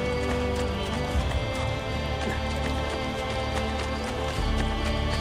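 A horse gallops in Assassin's Creed: Brotherhood, a steady clip-clop of hooves running continuously at close range under game music and ambience.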